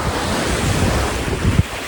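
Warm sea waves wash onto a nearly empty sandy beach in Albania as a steady, loud roar of surf mixed with gusty wind noise. No voices are heard.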